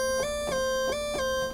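The second oscillator of a Moog synthesizer sounds a bright, thin sustained tone with a clear pitch that steps slightly between notes, pulsing in regular re-attacks roughly every third of a second, loud and close with no talking.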